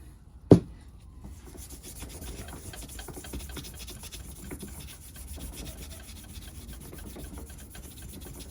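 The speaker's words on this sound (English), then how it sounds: "A little bit of Scotch-Brite and WD-40 cleans right up." Scotch-Brite pad and WD-40 scrubbing a part from a Di Blasi Italian scooter build: close, steady rasping rub strokes that continue throughout, opening with one sharp knock.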